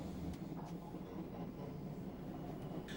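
A 1991 passenger train runs along the LBSC South London line near Brixton, giving a steady, continuous rumble of wheels and carriages with faint rhythmic clatter throughout and no voices.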